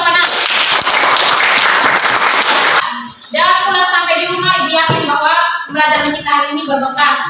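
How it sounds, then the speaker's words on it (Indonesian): An eighth-grade class applauds in a classroom with a loud, dense burst of clapping for about three seconds, then a teacher talks. "tepuk tangan untuk kelas 8A"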